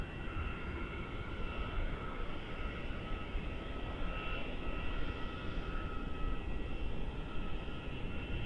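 Airplane passing at Melbourne Airport, a broad steady jet roar heard faintly from a distance, with a thin whine above it, sustained throughout with no talk.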